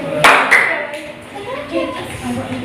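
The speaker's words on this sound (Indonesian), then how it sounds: "tepuk tangan untuk kelompok A" A classroom group of children clapping for their classmates, a short burst of sharp claps near the start that fades into room chatter and voices.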